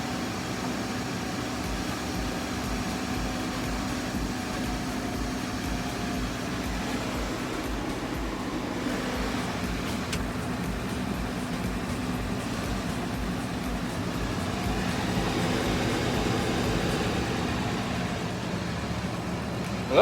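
A 2015 Ford F150 pickup engine with a newly fitted turbo runs steadily, a dense, even drone and hum that swells slightly toward the end, with no voices.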